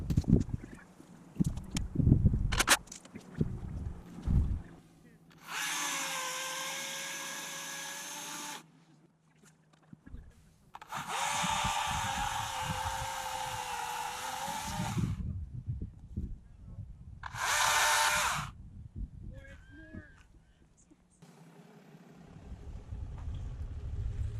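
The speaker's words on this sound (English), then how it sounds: "this Husqvarna 120i battery-powered chainsaw" A Husqvarna 120i battery-powered chainsaw runs in several separate bursts of high, steady whine, each a few seconds long, with clunks, handling noise and quiet gaps between them.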